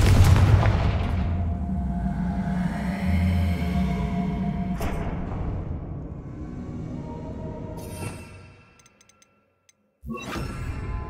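Confringo spell blast in Hogwarts Legacy, a loud booming impact that decays slowly, followed by fainter cracks, a short silence and another sharp burst.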